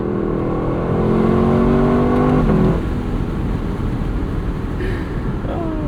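A 2024 Lexus LC 500 471hp V8 engine revs loudly, pitch climbing then dropping off, followed by a lower, rumbling idle with a brief whine near the end.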